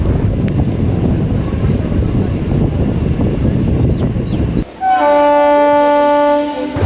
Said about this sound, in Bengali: তারকনগর হল্ট রেল স্টেশন থেকে আমাদের ট্রেন ডিপার্চার নিয়ে নিচ্ছে